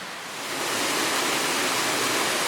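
The main Gold Creek Falls sends up a steady, loud roar of falling water as it is approached from its base, swelling in over the first half second and then holding constant with no voices.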